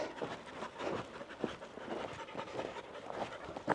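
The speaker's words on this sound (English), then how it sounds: "look at our little tired dogs we got going." Tired dogs panting in quick, rhythmic breaths, close by and moderately loud, with no talk over it.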